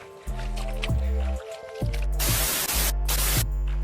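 Feet muddied from a walk through wet fields are rinsed off in water outdoors, giving close splashing and squishing swishes with short pauses between them, and no talking.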